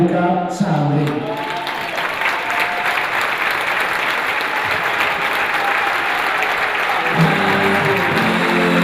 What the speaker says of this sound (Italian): Un grande applauso per Luca Sandri.